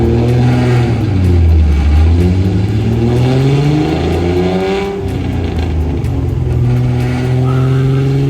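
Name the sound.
sports car engine revving loudly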